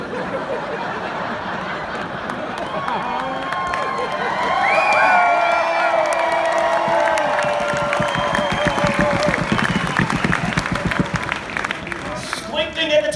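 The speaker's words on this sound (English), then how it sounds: "Pause for applause." Rally crowd at a political speech in Montana applauds and cheers, a broad swell of clapping and voices rising midway and carrying on, with some whoops and laughter mixed in.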